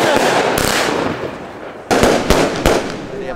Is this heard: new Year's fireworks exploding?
yes